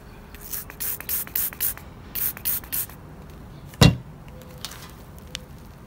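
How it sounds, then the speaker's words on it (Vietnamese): A half-litre spray bottle of diluted dish soap and water is pumped in quick bursts, about nine short hisses in two clusters. A single louder thump follows, with faint background noise. "Và mình xịt vào cái chỗ có rầy."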